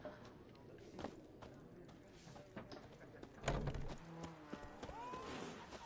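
Horse hooves clip-clopping in The Witcher 3, a few soft irregular steps with a louder thud near the middle, under game ambience and faint rising tones, with a voice speaking in places.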